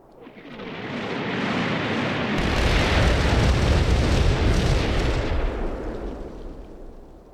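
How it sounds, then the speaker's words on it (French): Artillery fire in the Combat Mission wargame lands as a long, loud rumbling barrage that swells over a few seconds, holds heavy and dense, then slowly fades out. "Bien sûr, on est accueilli par l'artillerie"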